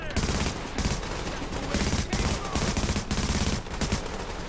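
Dense gunfire in the video game Tom Clancy's The Division, rapid automatic bursts and overlapping shots forming a loud continuous fusillade.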